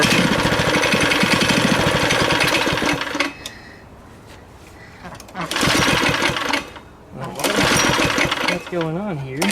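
A small neighborhood go-kart engine with a faulty throttle runs in loud bursts, dropping to a low idle between revs, with someone talking over it.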